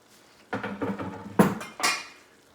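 Chopped onions and peppers scraped off a cutting board into an Instant Pot: a few close knocking and scraping clatters of a utensil against board and pot, in short bursts with no talk.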